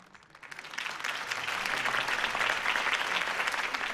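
A crowd applauds at a political campaign rally in the game Batman: The Telltale Series, and dense clapping swells up quickly to a steady roar that holds throughout.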